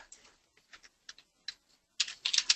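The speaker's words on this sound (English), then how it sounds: "And I'm going to type" Typing on a computer keyboard, several short bursts of key clicks with pauses between them, quickening into a faster, denser run of keystrokes at the end; close, fairly quiet and with no voice.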